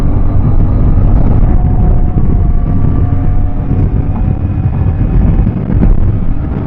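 A CFMoto 450MT motorcycle cruises in sixth gear at high revs, its engine drone buried under loud, constant wind roar buffeting the microphone at riding speed, with no voices.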